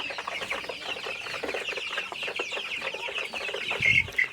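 Tiger breed chickens feeding together on a farm cluck and chatter continuously at close range, with a brief louder squawk near the end and no talking.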